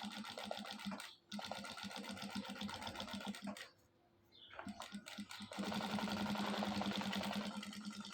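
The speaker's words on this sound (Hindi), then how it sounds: "ये ऐसे सिलाई लगा लेनी है, सिंगल सिलाई चलेगी।" A sewing machine runs single stitching with silk thread in a tailor's shop, a fast, steady close mechanical whir that stops briefly twice before resuming louder and denser.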